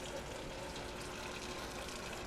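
Running water rinses a film developing tank in a steady, even rush that fills the whole short stretch, moderately close with no pauses.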